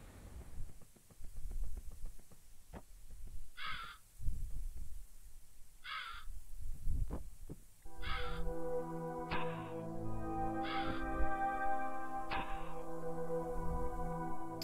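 A bird boss in the video game DarkMaus gives a string of harsh crow-like caws, each one short and repeated at intervals over a low rumbling game soundtrack with a droning tone.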